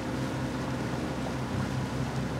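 A boat cruises on the Bosphorus, its steady engine rumble blending with wind and lapping waves in a continuous, moderately loud wash.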